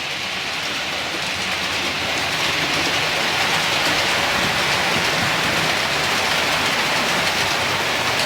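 Model diesel trains, including a class 37 and the Tornado, run steadily around a layout, making a continuous close rumbling rush of wheels on track with no talk.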